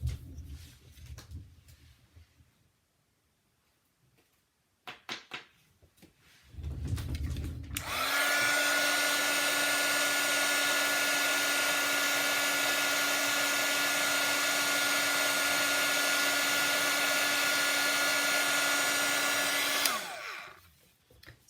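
A heat gun blows steadily for about twelve seconds while heat embossing a stamped greeting card, a loud, even, hair-dryer-like whoosh that starts abruptly after some quiet handling noises and cuts off cleanly at the end.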